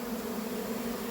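Honeybee swarm clustered in a tree, a steady low droning hum of many wings fanning and flying close by, continuous and unbroken.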